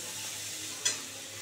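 Spices fry in a pan for an egg bhujia, a steady soft sizzle with a brief scrape of stirring partway through, quiet and close with no voices.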